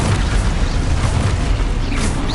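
A Confringo blasting spell goes off in the Hogwarts Legacy video game, a loud, dense rumbling boom that fills the whole moment with sustained low blast energy.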